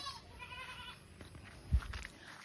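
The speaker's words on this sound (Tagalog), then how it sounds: "Okay, tingnan natin yung mga kambing." Goats bleat on a provincial farm in San Fernando, La Union, with a few wavering calls early on over quiet outdoor background, fairly faint and at moderate distance.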